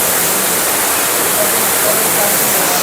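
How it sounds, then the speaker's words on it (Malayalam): Charpa waterfall at Athirappilly roaring close by, a loud unbroken wash of rushing water that fills everything. "നമ്മളിവിടെ ചാർപ്പ വെള്ളച്ചാട്ടത്തിൻ്റെ അവിടെ ഉള്ളത് കേട്ടോ."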